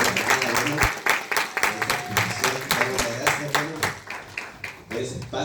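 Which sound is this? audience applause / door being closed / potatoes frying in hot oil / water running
audience applause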